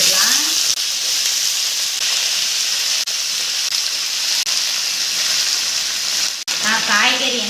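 Chopped vegetables (broad beans, beans, brinjal, banana stem, radish, chow chow) hiss loudly in a hot sambar tempering, a continuous bright sizzle with a few sharp clicks and a voice briefly heard near the end.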